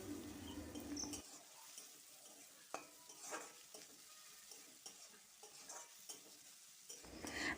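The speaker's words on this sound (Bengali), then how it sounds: "আদাটাকেও আমি তেলের মধ্যে নেড়ে নেবো" Grated ginger, onion and tomato fry in oil for a masala brinjal dish, with a soft sizzle beneath and several sharp spatula scrapes and knocks against the pan as the mixture is stirred, and a louder burst of frying at the start and end.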